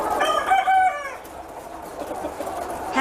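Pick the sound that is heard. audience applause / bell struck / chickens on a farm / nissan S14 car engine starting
chickens on a farm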